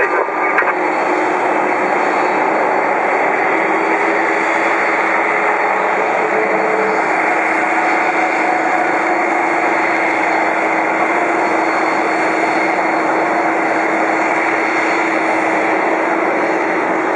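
EVA Airways Cargo Boeing 747-45E converted freighter engines roar steadily at LAX, a loud, continuous jet rumble and hiss with a faint whine, unbroken throughout.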